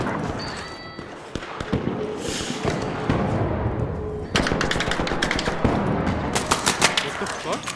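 Video game gunfire in rapid automatic bursts, dense crackling volleys that thicken toward the end, loud and close, with a voice briefly talking over the shooting.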